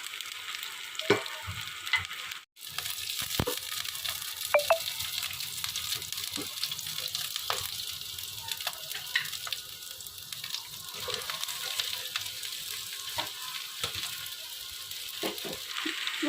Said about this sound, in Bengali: এটা ভাজা হতে থাক